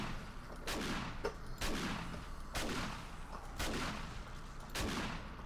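Shotgun blasts in the survival game 7 Days to Die, five sharp loud reports spaced about a second apart over a steady low background rumble.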